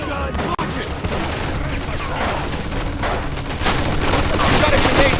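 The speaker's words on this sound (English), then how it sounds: "Looks like we found the machine gun!" Dense, rapid machine gun fire in the Mafia II video game, with booming blasts and chaotic battle noise that stays loud and continuous, growing slightly heavier toward the end.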